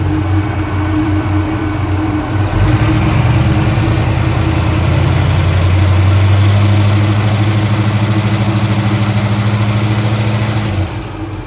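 A Holden HJ Ute's engine idles slowly at about 4 psi fuel pressure on its mechanical fuel pump, giving a steady, close, low rumble that firms up a little partway through and runs without talk.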